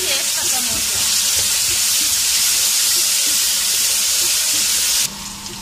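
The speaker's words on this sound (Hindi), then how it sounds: "इसको मैं फ्राई करूंगी और साथ में ये जीरा ऐड करके अच्छी तरह फ्राई करूंगी" Taro (arbi) pieces frying with cumin seeds in a pan for arvi bhujia, a steady loud sizzle and hiss that runs unbroken, then drops slightly near the end.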